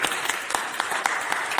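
Audience clapping at a Hindi poetry gathering, a short burst of scattered, moderately distant applause with irregular individual claps.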